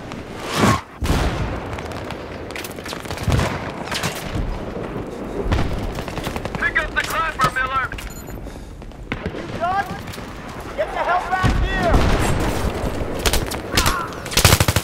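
Gunfire in the video game Battlefield 3: bursts of rifle shots and booming blasts come in irregular clusters, mixed with shouting voices and a dense combat din throughout.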